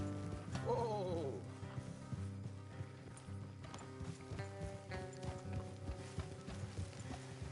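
Horse hooves clip-clopping in a steady rhythm in the video game Red Dead Redemption 2, with a horse whinnying briefly at the start over low, droning background music.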